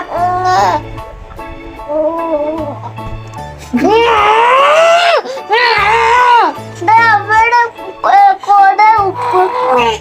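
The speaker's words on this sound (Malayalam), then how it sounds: "കൊച്ചി കരയുന്നു വേം വാ" A baby wails loudly and close by at night in repeated rising and falling bursts, with adult voices around the crying.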